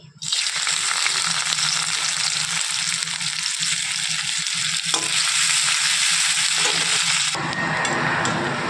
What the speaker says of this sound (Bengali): তেলটা গরম হয়ে গেছে দিয়ে দিচ্ছি পেঁয়াজ কুচি